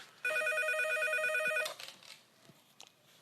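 A telephone rings with an electronic bell tone for about a second and a half before being picked up, followed by faint handling noise.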